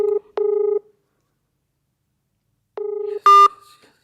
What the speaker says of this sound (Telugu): Okay Google, call Vishwa. Calling Vishwa, mobile